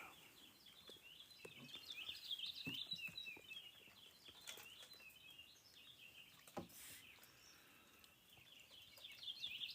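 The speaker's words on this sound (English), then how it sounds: "The finches are doing their evening song." Small finches chirp and twitter in an evening chorus outdoors near a deck, many quick high calls overlapping steadily for the whole stretch, moderately near and fairly faint, with no talking.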